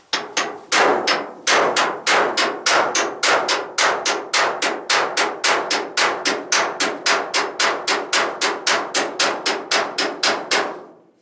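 Rapid, steady hammer blows ring out on sheet metal as dents are beaten out, dozens of sharp clanging strikes in a fast even rhythm, loud and close, with no talking.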